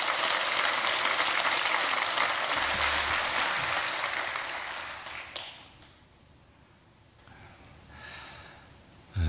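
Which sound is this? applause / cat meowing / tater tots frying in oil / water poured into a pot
applause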